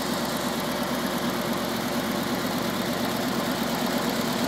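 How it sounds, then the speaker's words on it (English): A 1949 Ford flathead V8 idles in a steady, close, even rumble with a faint mechanical ticking from the camshaft, running alone without any voices. "Flathead 8 running away there."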